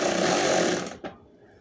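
A power drill whirs steadily while driving screws into plastic trim parts during air conditioning repair on a 2011 Toyota Sienna, then winds down and stops with a short click, loud and close.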